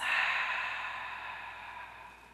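A single long exhale through parted lips, soft and breathy, starting strongest and slowly fading over about two seconds, close and alone with no talk.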